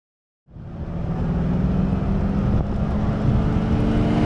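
A Lamborghini Miura S engine starts up after a moment of silence and settles into a loud, steady, throaty idle rumble that stays close and constant with no talk.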